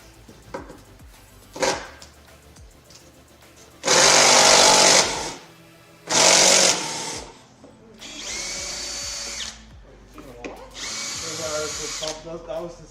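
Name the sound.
impact driver running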